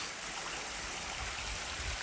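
Creek water at High Creek on San Gorgonio in winter rushes in a steady, dense wash, continuous and fairly loud with no voices.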